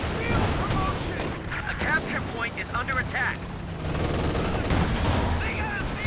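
Tank main guns firing in a Company of Heroes 2 battle, with repeated booming shots and gunfire impacts spread through dense, continuous combat noise, while a voice talks over it.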